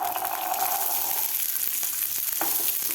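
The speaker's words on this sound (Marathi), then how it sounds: "आता आपल्याला हे 2 ते 3 मिनिट व्यवस्थित परतून घ्यायचे आहेत मटार, मिरची आणि लसूण" Fresh green peas, garlic and green chillies sauté in a pan with a continuous close sizzle, broken by a few soft clicks of stirring.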